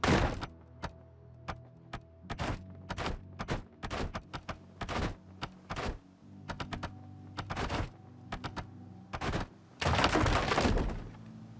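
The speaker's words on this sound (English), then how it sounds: "Thankfully, there's quite a few floorboards I can destroy." Floorboards being destroyed for nails in the Project Zomboid video game, a series of sharp irregular thuds and cracking impacts, some in quick clusters, with quiet gaps between them.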